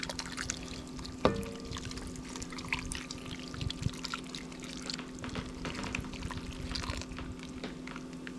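Liquid poured into a pot of braised beef chili, a steady soft trickle and splash running throughout at low level, with one brief clink near the start.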